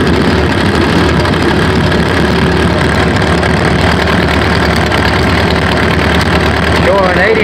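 An H5 engine runs loud and close at a steady idle, a constant dense rumble with no pauses throughout.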